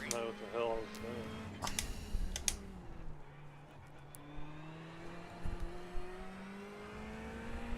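A Ferrari race car's engine in the iRacing sim at Circuit of the Americas drones steadily, with a long rising and falling pitch, under rapid keyboard clicks near the start.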